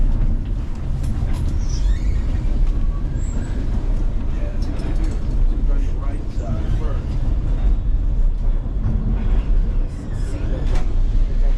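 The White Pass scenic railroad train in Skagway curves over a bridge above the Skagway River, making a steady, loud rolling rumble and rattle throughout, with voices talking over it.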